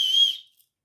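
A survival kit whistle from a Life+Gear first aid and survival kit gives one steady, shrill, piercing blast about a third of a second long, close and alone, then cuts off.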